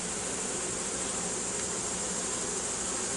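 Loud, thick buzzing of many honey bees crowds the air right at the hive, a constant close drone with no pauses or voices.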